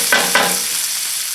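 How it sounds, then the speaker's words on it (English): Peppers and shallots sautéing in a pan over medium heat, a loud close sizzle with a couple of sharp stirring scrapes near the start, no voices. "Keep stirring this on a medium heat for at least 5 minutes to get the peppers nice and soft."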